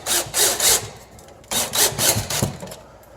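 A power drill drives screws into a microwave mounting plate in two bursts, each a pulsing whir of a few quick surges with a brief pause between, close and loud with no talk.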